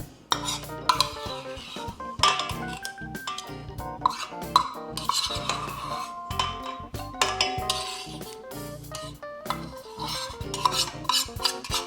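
A knife scrapes and clinks against a metal mixer bowl, working thick peanut butter out in a rapid, uneven run of close scraping strokes and taps, with no voices.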